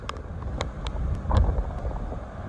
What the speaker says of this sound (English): the wind is getting more intense